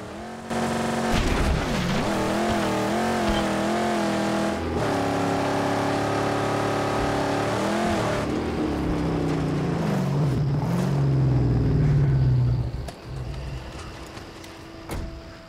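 A car driven in the video game Mad Max roars with loud, continuous engine revving and shifting pitch, gear changes and a skidding stretch near the end, and no voices are heard.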